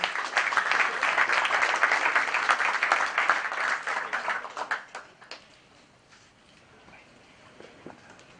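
A crowd applauds loudly for about four seconds, then the clapping thins out and fades to a few scattered claps.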